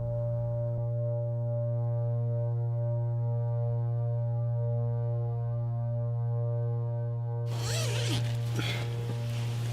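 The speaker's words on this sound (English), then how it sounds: "I'm just trying to open this zipper." Clothing zipper pulled open on a Kilimanjaro climb: a brief rasping burst of zipping near the end, close and fairly loud over a constant low electrical hum, with no speech.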